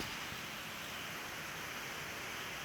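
Steady rain falling outdoors over an overgrown yard, a soft continuous hiss filling the background with no talk over it.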